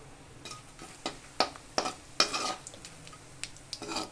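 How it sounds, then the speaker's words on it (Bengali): Whole garam masala, white cumin and bay leaf frying in oil in a home kitchen, with a soft sizzle under a series of sharp spoon-on-pan clinks and scrapes as the spices are stirred. "এবার এই তেলে দিয়ে দেবো গোটা গরম মশলা, সাদা জিরে, তেজপাতা, ফোড়ন। তো এটা ভাজা ভাজা হবে।"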